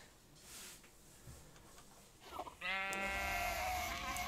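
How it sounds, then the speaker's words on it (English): A sheep bleating in Minecraft, one loud wavering in-game bleat in the final second and a half after quieter shuffling and ambient sounds. "I guess the sheep is safe for now."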